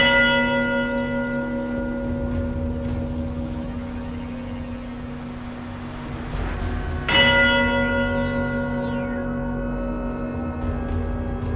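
Large church bells ring out with long, rich sustained overtones, two strong strikes several seconds apart, each decaying slowly into a humming resonance.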